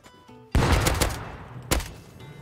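MLRS rocket barrage in the game Rust, on a server: a sudden loud burst of rapid explosive blasts, with a second heavy impact a moment later and a rumbling decay, no talking.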